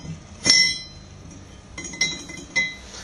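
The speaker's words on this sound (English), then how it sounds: "We take our bottom disc, we place it onto our body." A metal disc is placed onto the body of an Emech Control F5 3-port steam water mixing valve, giving a bright clink followed by two lighter metallic taps in a quiet room.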